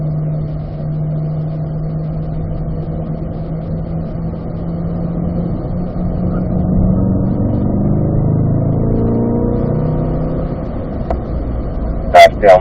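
Vehicles in a lead-follow group pull out and accelerate through the gears, engines droning low and rising in pitch as they gain speed, with a brief clatter at the end.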